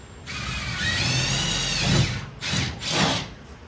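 A power drill drives the last screw through metal while fitting universal mud flaps, a steady close whine with two brief dips as the motor slows and catches near the end.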